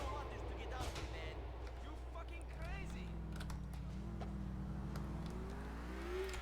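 A car drives in Grand Theft Auto IV, its engine rising and falling through revs at a faint level, with scattered keyboard clicks and background game noise.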